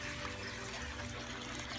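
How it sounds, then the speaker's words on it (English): Water drains into a greenhouse grow bed of lettuce as a faint, steady trickle with no other sounds over it. "See the water's draining in."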